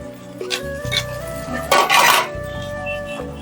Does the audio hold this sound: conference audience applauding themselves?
no